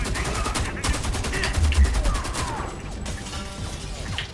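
Rapid automatic gunfire rattles in Homefront: The Revolution on Xbox One, a fast regular burst of shots up close followed by scattered impacts and quieter game noise.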